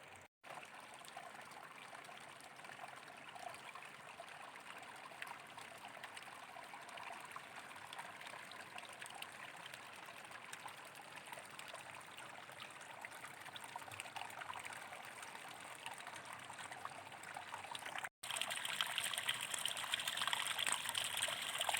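Mountain spring water trickles steadily out of rocks in Samahni, Azad Kashmir, a continuous close burble that swells slightly louder near the end.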